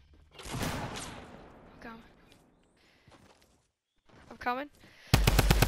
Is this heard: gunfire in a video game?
yes